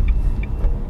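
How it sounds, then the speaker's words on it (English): A Nissan Leaf electric car creeps forward on its own, with no pedal pressed. Inside the cabin there is only a low, steady rumble and a faint whir, with no voices. "That's it, the car's pulling away, I've not pressed anything."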